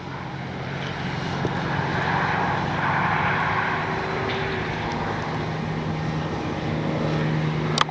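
Flightline 1600mm P-51D Mustang RC model airplane flying a landing approach with gear down, a steady electric motor drone with a faint whine, holding constant at a moderate distance.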